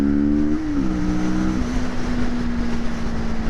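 A 2023 Kawasaki Vulcan S motorcycle engine pulls hard under acceleration, its droning note stepping down in pitch through shifts before settling into a steady, loud hum with wind rush, and no voices.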